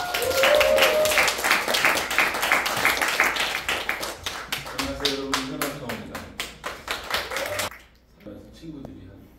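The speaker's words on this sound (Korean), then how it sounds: "자 테너 오창호 교수님 박수 주시겠" Audience applause at a concert greets tenor Professor Oh Chang-ho: a dense wash of clapping under a speaking voice, thinning into separate claps before dying away in the last second or two.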